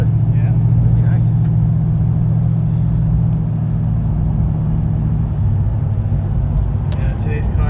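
A 1940 Ford Deluxe Coupe with a 327 engine and Turbo 400 transmission runs on the road, giving a loud, steady low rumble throughout with faint voices over it.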